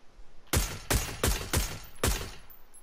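Five sharp, loud gunshots ring out in the PUBG video game, spaced unevenly about half a second apart, each with a booming low tail, with no voices over them.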